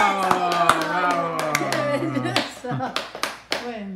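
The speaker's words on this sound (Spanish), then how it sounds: "Y un aplauso" Applause at an indoor painting contest for elderly people, with a crowd clapping in dense bursts of hand claps over cheering and lively talk, the clapping thinning out toward the end.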